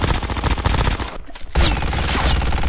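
Gunfire in the video game Call of Duty Mobile, with loud, rapid automatic fire that pauses briefly and then resumes in a dense burst, close and dominant.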